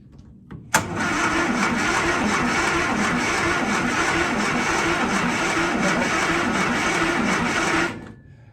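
A car engine cranks on its first start attempt after new dashboard wiring: a loud, continuous, rhythmic starter churn that begins with a sharp click and runs steadily for about seven seconds before cutting off.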